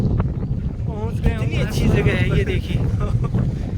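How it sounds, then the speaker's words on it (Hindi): Strong, pressured wind blows across the microphone on Harsh mountain, roaring steadily the whole time under a man's close, excited talking. "इतना तेज हवा का वेग, इतना प्रेशर"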